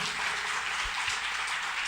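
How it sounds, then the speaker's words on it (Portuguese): A church congregation applauds together, a dense, even roar of clapping held steady throughout at moderate distance. "Vamos aplaudir o Senhor pela vida deles."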